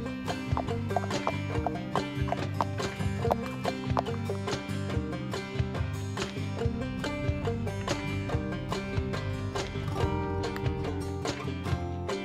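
A horse's hooves clip-clop in a brisk, even rhythm on a road as it pulls an Amish buggy, close and prominent, with dense ringing overtones throughout.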